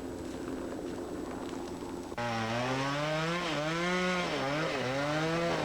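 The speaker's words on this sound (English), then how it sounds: "The chainsaw is a highly effective line clearing tool." A chainsaw clearing a wildfire fire line roars to life partway through, its engine whining loudly and revving up and down as it cuts, close by.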